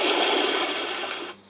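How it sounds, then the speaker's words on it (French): A SOAIY multicolour LED ambience lamp plays an ocean soundscape through its small speaker as a steady, broad washing hiss that fades and cuts off just before the end. "On a les bruits de l'océan"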